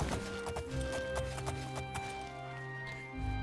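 Two horses in a video game walk side by side, their hooves clip-clopping in a quick, close, irregular rhythm of sharp knocks over faint background game ambience.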